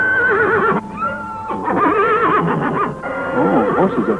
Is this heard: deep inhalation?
no